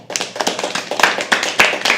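An audience at a live poetry open mic claps in quick, uneven bursts, sharp close hand claps stacking into a lively rhythm.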